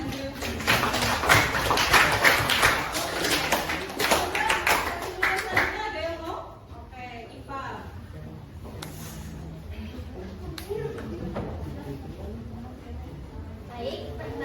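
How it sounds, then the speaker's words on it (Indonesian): Several people clap in a brief, uneven burst at a school presentation, fairly close and lively for about six seconds, then the clapping stops and a voice speaks quietly over room tone. "kita beri tepuk tangan untuk"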